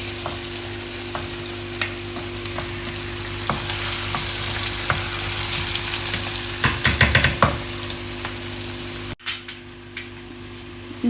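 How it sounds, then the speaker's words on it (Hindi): Garlic and spices frying in a pan for a fish and potato dish, a steady close sizzle with scattered stirring scrapes, a brief cluster of louder clatter near the end and a short gap before the sizzle resumes. "ये सब कुछ बहुत अच्छे से इसमें फ्राई हो चुका है"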